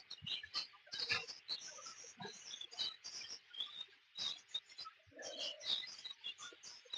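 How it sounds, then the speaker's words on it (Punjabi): Busy chirping and twittering from caged budgerigars at a zoo, continuous and close, with scattered sharp calls and a few lower grunting animal sounds mixed in. "ਇੱਕ ਹੋਰ ਪਿੰਜਰਾ ਆ ਗਿਆ ਚਿੜੀਆਂ ਦਾ ਬਰਜੀਗਰ"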